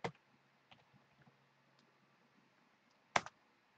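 A few sparse keyboard clicks tap quietly against near silence, with a louder cluster of keystrokes at the start and another near the end.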